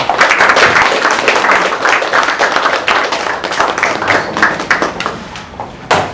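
An audience at a business networking workshop claps for a life membership certificate recipient, giving loud, dense applause that tapers slightly and then swells again near the end.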